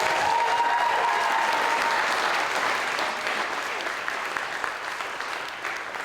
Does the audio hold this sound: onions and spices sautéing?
no